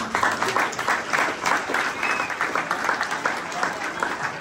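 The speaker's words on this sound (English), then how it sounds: "round of applause for everyone" Applause for panellists at a pub discussion on gas, a close, lively crowd clapping with distinct rapid hand claps and some murmuring, holding fairly steady throughout.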